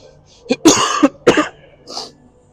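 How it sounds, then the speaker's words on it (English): A few harsh, throaty coughs in quick succession, close and loud, followed by a softer breathy exhale. "got a cough"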